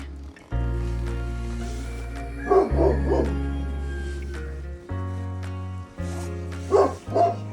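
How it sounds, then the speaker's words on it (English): Dogs bark in the morning on Gran Canaria, a few sharp yips and barks in two short bursts standing out over a loud, steady backing of music. "The next morning we woke up to the sounds of peacocks and dogs."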